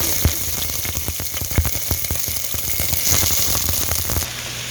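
Onions hitting hot coconut oil in a pressure cooker, a loud steady sizzle with crackling pops throughout that eases off near the end.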